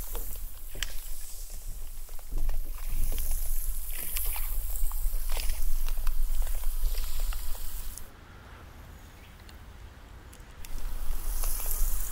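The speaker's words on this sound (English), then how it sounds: "What you can also hear now is the cavitation from the propeller of the ferry." An underwater rush of hissing and crackling from a ferry propeller's cavitation, with scattered pops and clicks. It quiets for a couple of seconds, then surges back.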